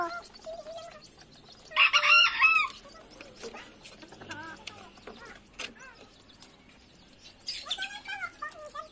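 Several chickens cluck and squawk nearby, with a loud burst of crowing early on and more squawking later, no voices.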